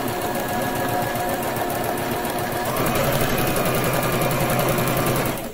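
A sewing machine runs a steady quarter-inch seam on a surgical mask, its fast needle rhythm loud and continuous from start to finish with no talking.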